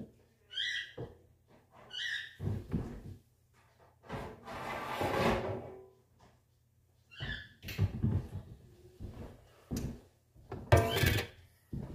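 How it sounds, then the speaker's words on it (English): A pizza pan taken from a kitchen drawer, with the drawer sliding and thudding, metal rattling and clunking in several bursts, close and loud, with breathing between the sounds. "Get a pizza pan out."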